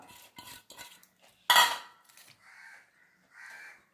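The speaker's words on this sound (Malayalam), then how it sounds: "നമുക്കിതെല്ലാം കുക്കറിനകത്തോട്ട് ഇട്ട് കൊടുക്കാം" Sambar ingredients, including tomato, drop into a metal pressure cooker, clattering and rattling, with one louder thud in the middle and lighter scrapes after.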